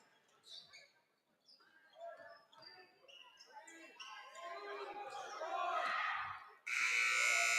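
A loud, sustained buzzer ends the first half of a boys varsity high school basketball game, Rudyard at Newberry. It blares for about a second after a stretch of gym crowd noise, squeaks and rising cheers.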